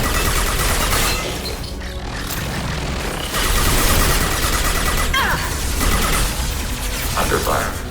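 Sustained rapid bursts of futuristic weapon fire in the Mass Effect 2 Tali loyalty mission, dense overlapping shots and impacts at loud level, with combat voice callouts briefly mixed in.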